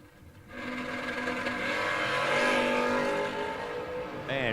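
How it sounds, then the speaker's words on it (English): Drag race engines from a Ford Ranger and an S10 truck roaring down the strip, a loud sustained drone of revving motors that swells and holds, with crowd and track noise behind. "Herb, the Cajun Chinchilla, dials in a 615 for the the Ranger pacing the S10"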